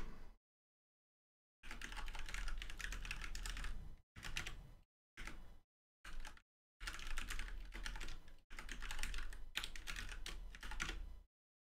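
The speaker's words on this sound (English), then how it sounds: "So we're just going to type a list." Someone types a list of server names on a computer keyboard in a string of rapid, steady clicking bursts broken by short silent gaps, close and clear with no voice over it.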